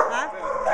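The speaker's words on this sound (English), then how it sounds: "it's pretty noisy and stuff out here at the kennels" Dogs bark at the kennels, a short burst of close, loud barking and yipping mixed together, with people's voices overlapping.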